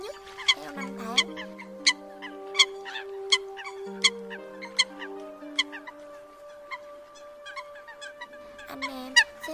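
Eurasian coot calls repeat as sharp, loud, regularly spaced notes over sustained droning tones, steady across the recording with no talking.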